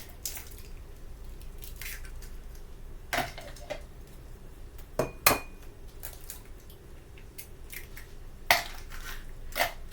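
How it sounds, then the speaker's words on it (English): Eggs cracked into a separate bowl for pecan pastry baking, heard as a few sharp taps and cracks against the bowl's rim, then soft sloppy stirring and light clinks, all close and fairly quiet. "so I'm just going to crack my eggs in a separate bowl really quick. Give them a little stir"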